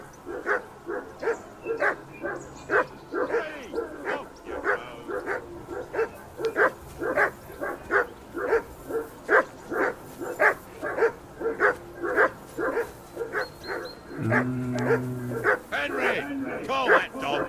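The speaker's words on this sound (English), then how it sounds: "call that dog to heel" Dog in the medieval role-playing game Kingdom Come Deliverance 2 barking in a fast, steady series of sharp yaps lasting the whole stretch, close and fairly loud, with brief game sounds underneath.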